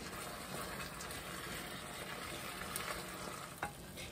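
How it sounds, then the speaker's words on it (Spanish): Chopped carrot fries in a pan for Guatemalan-style creamed chicken, a continuous sizzle with scraping stir strokes and one sharper clink near the end, at low level with no talking. "En este momento voy a agregar la zanahoria, puesto que esta es un poquito más dura y cuesta un poquito más que se cocine."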